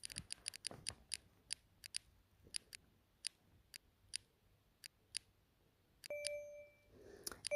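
Prize draw wheel spinning with sharp, close ticks that start fast and gradually spread out as it slows, followed by a clear electronic chime tone near the end.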